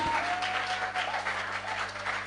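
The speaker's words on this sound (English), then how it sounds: "Clap for yourself." Audience applause at a young entrepreneurs conference, a steady dense clapping from a large crowd filling the room and holding at an even level throughout, with no voices on top.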